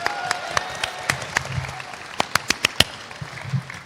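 Scattered clapping from a few people, a series of sharp distinct claps spaced irregularly at first and then coming in a quicker cluster, over a faint room background with little talk.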